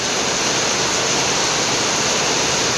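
Heavy rain splashes in at the front of a house, a dense, loud, unbroken roar of water with no pauses or other sounds.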